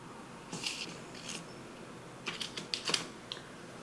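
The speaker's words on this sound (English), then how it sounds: "Let's go ahead and cut into our delicious bread." A knife cuts into a loaf of cheese and jalapeno bread, giving short crackly crunches of crust in two clusters, the second longer and louder, close by with no talk.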